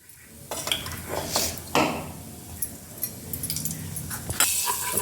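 Spices such as turmeric, red chili powder and dabeli masala are stirred together in hot oil in a pan, giving a series of close, irregular metallic clinks and scrapes from a utensil.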